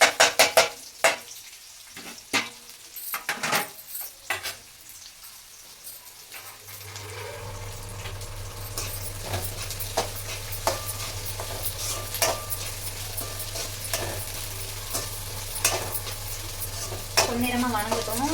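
Onion goes into hot oil already holding spicy masala in a home kitchen pan; a few clinks and scrapes of a utensil give way to a steady close sizzle of frying, with repeated stirring knocks over it.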